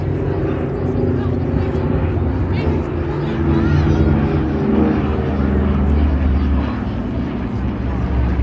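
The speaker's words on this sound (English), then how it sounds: "So watch as the aircraft pitches up from the left, return from the right, the Dakota and the Hurricane." Douglas Dakota and Hawker Hurricane flying past at the Blackpool airshow, with a loud, steady propeller engine drone that swells and fades slightly while an announcer talks over it.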